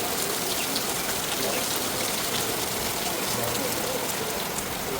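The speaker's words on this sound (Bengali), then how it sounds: "ঝুমঝুম শব্দ।" Steady, heavy rain pours down outdoors, a dense continuous hiss of drops drumming on surfaces, loud and close throughout with no break.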